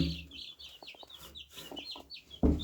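Young chicks a few days old call and peep in shrill, overlapping cheeps under a heat lamp, close and steady throughout, with a louder thump near the end.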